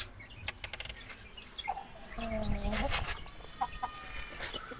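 An Aseel game rooster in a home breeding setup gives a drawn-out crow in the middle, with brief clucks and scattered farmyard noises around it. The sound is moderately near and fairly faint.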